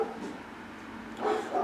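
A dog gives a couple of short, muffled barks at moderate distance, with a louder bark near the end.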